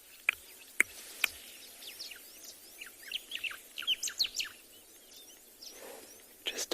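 At sunrise on a safari, a bird gives a few sharp, high whistling calls near the start, followed by a run of quicker chirps and tweets, moderately close, over a quiet outdoor background.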